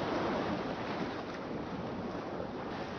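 Steady wash of sea waves with a breezy, wind-like hiss in a horror video game's seaside area, continuous and even throughout with no voices.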